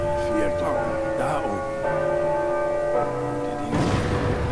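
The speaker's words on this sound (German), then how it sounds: "Läuten wir ein paar Glocken." Bells ringing in the video game Uncharted 4, a steady sustained metallic tone with layered overtones that swells louder near the end, sounding over a game backdrop.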